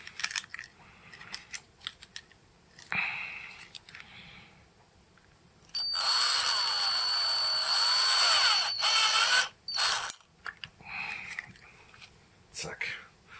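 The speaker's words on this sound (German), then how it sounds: "jetzt haben wir unsere 6er Löcher. Und das war's schon mit der Bohrerei." A power drill bores 6 mm holes for a homemade heater fan booster, a loud, sustained whine lasting several seconds with brief bursts before and after and talking around it.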